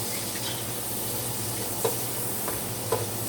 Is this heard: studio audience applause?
no